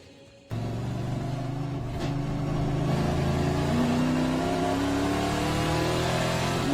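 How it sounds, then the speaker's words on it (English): Euro NASCAR race car on an onboard lap at Zolder: after a brief quiet moment the engine roars in abruptly, rising through revs and holding a loud, sustained drone from inside the cockpit. "Let's go for an onboard lap with Stinis Longin."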